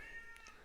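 A cat meows faintly a couple of times in the background, short high cries over a steady low hum.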